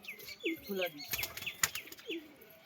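Pigeons at a home pigeon loft give a run of short, repeated chirping calls with soft cooing and brief wing-flap bursts, close by and moderately loud.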